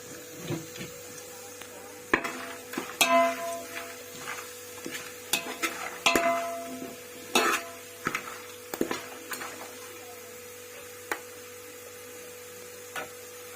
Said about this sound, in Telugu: చెక్క, లవంగాలు, అనాస పువ్వు, మరాఠీ మొగ్గ, సాజీరా, యాలకలు, బిర్యానీ ఆకు ఇవన్నీ కలిపి మనం ఆయిల్లో వేసేసుకొని ఫ్రై చేసుకుందాము.